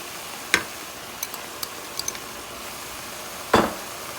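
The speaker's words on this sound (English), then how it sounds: "saute this together for a couple of minutes" Onion and vegetables sauté in a pan for shepherd's pie, giving a quiet, faint sizzle broken by a few sharp utensil taps and clicks, with no talk.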